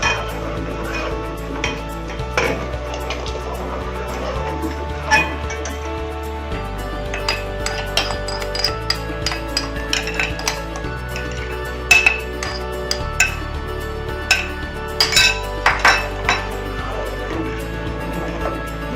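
A spoon stirs milk in a metal pot, scraping and clinking against the sides in a steady, continuous rhythm, close and clear with no talking over it.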